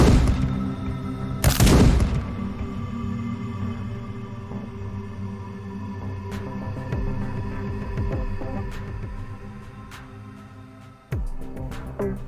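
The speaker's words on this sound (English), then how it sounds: "So he activated one of the turrets by getting too close." An activated turret in a video game fires, opening with a loud close burst followed by a sustained mechanical hum and scattered sharp shots and clicks.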